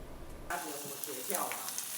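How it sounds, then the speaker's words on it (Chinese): Large prawns with shells on are pan-frying in a hot iron wok, giving a steady close sizzle and crackle that starts abruptly and continues throughout. "肥美的大明虾在铁锅里煎到滋滋作响"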